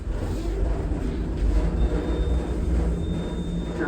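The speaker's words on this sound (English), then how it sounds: "That's my train." A subway train rolls into an underground station with a loud, continuous rumble and clatter, wheels grinding over rails; a faint thin squeal rises briefly partway through, no talk.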